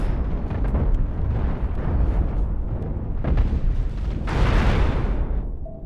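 Spaceship blowing up in the Cosmoteer space battle game, a rolling series of deep booms and crackling blasts, building to a bright roaring burst before cutting off, loud and continuous with no talk.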